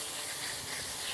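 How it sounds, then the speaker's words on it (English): A hose sprays water in a steady broadband hiss while rinsing freshly caught fish at home, with no voices and an even, continuous level throughout. "I'm gonna spray it. Gotta spray it. Gotta clean up the fish."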